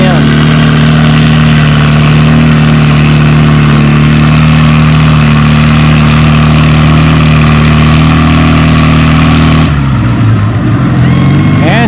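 A tractor-pull engine roars loud and steady while hauling a 2,500-pound sled across rain-soaked clay, the heavy drone holding constant before shifting and dropping abruptly near the end as the wheels spin out.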